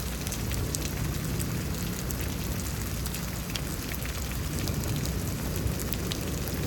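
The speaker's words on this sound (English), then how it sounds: "Yeah, very tiny hail, very sporadic." Very tiny, sporadic hail falling on a roof during a Houston thunderstorm, a steady dense hiss with faint scattered ticks throughout, continuous and fairly loud with no voices.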